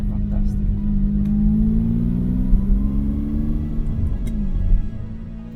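A Ferrari 550 Maranello with its front-mounted V12 and manual gearbox, a steady deep engine rumble cruising close by, the pitch rising and falling slightly with a brief swell near the end.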